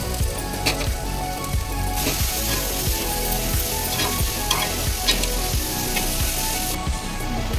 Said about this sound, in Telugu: ఉల్లిపాయ ముక్కలు, పచ్చిమిరపకాయ ముక్కలు వేసుకొని బాగా ఫ్రై చేసుకుందాం